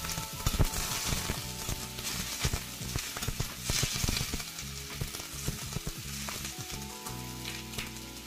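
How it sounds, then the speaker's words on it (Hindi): Cauliflower and potatoes fry in a pan while being stirred, crackling sizzle broken by scraping spoon strokes and clatters, close and fairly quiet throughout. "गोभी को और आलू को अच्छे से मिक्स कर लेंगे।"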